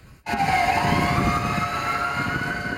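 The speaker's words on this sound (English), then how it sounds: "Inside this ambulance rushing to Bellevue Hospital tonight" An ambulance siren wails steadily and loudly at night, a continuous rising and falling tone over heavy engine and road rumble, starting abruptly after a brief quiet moment and holding throughout.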